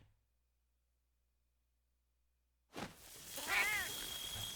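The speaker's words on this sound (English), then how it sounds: "And you got the little cat, the cat bros." A small cat meows in the Monster Hunter Wilds video game trailer, a single rising, wavering meow that cuts in abruptly after near silence, clear and close over a faint background wash.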